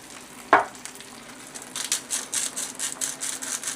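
Eggs frying in a pan for sausage, egg and chips: a sharp clack near the start, then a steady, soft crackling sizzle builds and continues on its own.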